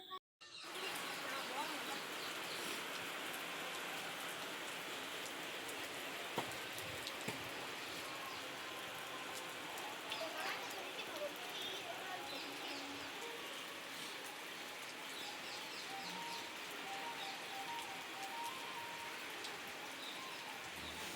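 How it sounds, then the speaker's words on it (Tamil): Heavy rain pours steadily at Azhagar Malai, a dense unbroken hiss of drops on surfaces lasting throughout, with faint birds calling in the background. "வெளியில் வந்து பார்த்தா சரியான மழை."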